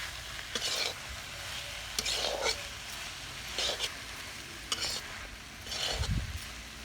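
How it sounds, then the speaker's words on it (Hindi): Spices with turmeric being stirred and fried in a pan for a Chhattisgarhi vegetable dish: a soft sizzle with several scraping stirs at irregular intervals, close and fairly quiet. "सबला बढ़िया से मिला लेबो और बढ़िया से भूनबो एला।"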